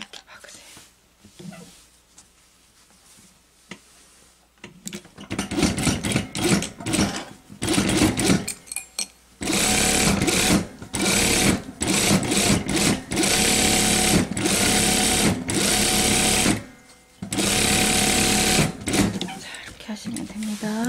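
A sewing machine stitching fabric for a sleeveless top and flared shorts, running in long rapid bursts with brief pauses between them, loud and close, while someone talks quietly at the start.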